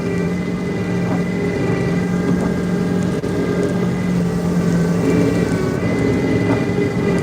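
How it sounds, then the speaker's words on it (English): A John Deere skid steer fitted with a Weston snow plow runs nearby, its engine putting out a steady, close mechanical hum with constant tonal whine. "Got a really nice Weston plow on this John Deere skid steer."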